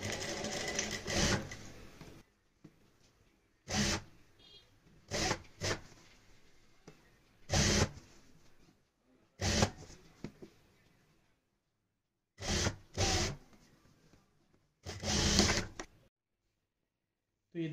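A sewing machine stitches the sleeve of an umbrella-shaped kurti with a half-inch seam allowance in short, separate bursts of close whirring, with quiet pauses between runs.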